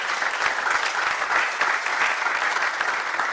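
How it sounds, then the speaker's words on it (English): A ceremony audience keeps up steady, dense applause for a director, even clapping throughout with no pause. "Shall we sustain the applause for Director Technical Futa?"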